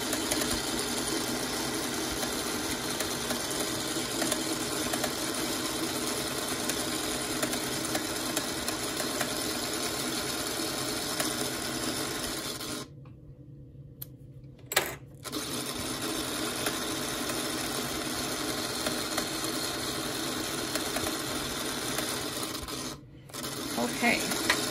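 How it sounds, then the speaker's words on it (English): A sewing machine stitches along marked lines on fabric while piecing a quilt block, with a steady continuous whir. The motor stops briefly around the middle and again near the end, and a soft clunk falls in the first pause. "I let, basically just sewing right on those lines, you know, let my machine do the work."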